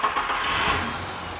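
A truck engine catches and runs, a mid-pitched rumble with a brief rise in revs near the middle before easing back toward idle, close and loud, with no talking.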